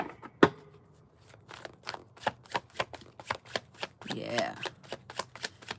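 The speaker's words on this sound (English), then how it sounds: "Gonna go ahead and shuffle right." Tarot cards being shuffled by hand in a run of crisp, evenly spaced riffling snaps, with one louder slap near the start and a brief murmured voice partway through.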